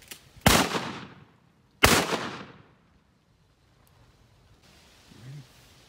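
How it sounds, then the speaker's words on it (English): Two sharp, loud shotgun blasts ring out while duck hunting, each followed by a short decaying echo, spaced about a second and a half apart, with a faint voice afterward. "Shot. Good shot, Xander."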